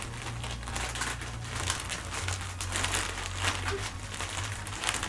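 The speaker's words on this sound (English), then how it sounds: "So it's in one of these plastic bags, so I reckon I'll just rip it open." Plastic bag holding a t-shirt crinkles and rustles steadily in close, irregular bursts as it is handled and pulled open, over a low background hum.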